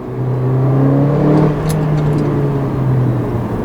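A 2015 Mercedes-Benz GLA 45 AMG engine drones loud and steady from inside the cabin, with a single short sharp exhaust crack breaking through about midway.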